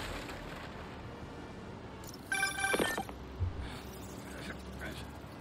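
A phone rings in Marvel's Spider-Man Remastered on PS5, a short burst of bright electronic ringing in the middle that stands out over low game ambience and a hint of voice.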